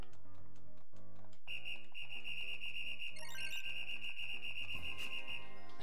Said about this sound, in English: Just spam the whistle.